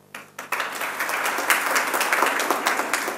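After a few scattered claps, applause swells into a steady, dense round from the audience at a college lamp lighting and oath taking ceremony, continuing without voices.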